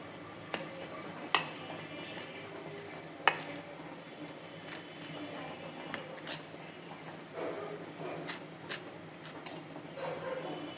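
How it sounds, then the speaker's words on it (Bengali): Cornflour being stirred with water in a bowl for chicken soup, quiet soft swishing broken by occasional light clinks of a spoon against the bowl. "ভালো করে জল দিয়ে কর্নফ্লাওয়ারটাকে গুলিয়ে নিচ্ছি"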